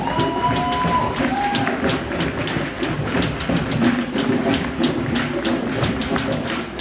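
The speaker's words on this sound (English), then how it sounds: "Come on, keep clapping your hands and show some love." A crowd at a national conference at Morgan State University claps steadily, producing a dense, continuous wash of hand claps with no pauses, loud and close.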